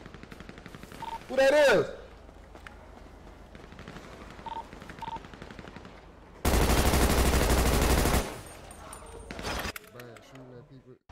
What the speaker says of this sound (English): They shooting at us. They shooting.